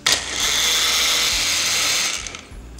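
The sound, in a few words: blender blending beans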